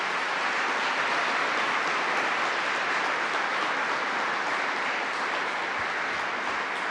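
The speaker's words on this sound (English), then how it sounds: "Let's give another round of applause to Betty Rosa." Sustained, dense applause from an audience at a state government press event on school mental health, an even wash of clapping that holds steady throughout without talk over it.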